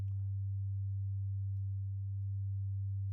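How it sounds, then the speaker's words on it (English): A Reaktor synth patch with an LFO routed to its filter gives a steady, quiet low tone that holds unchanged throughout, with no talking. "Gonna hook up our LFO, I think, to our filter."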